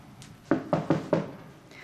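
Four firm knocks rap on a house door in a quick, evenly spaced run, loud and close, with nothing else around them.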